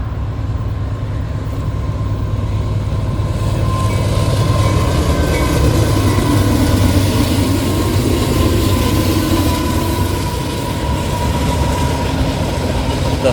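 A Norfolk Southern freight train rolls past beside a highway on the outskirts of Gurley, Alabama, a loud, continuous rumble with steady rail clatter and a sustained tonal whine throughout.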